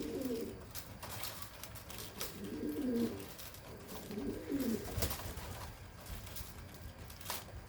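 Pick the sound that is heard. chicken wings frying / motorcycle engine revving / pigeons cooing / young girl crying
pigeons cooing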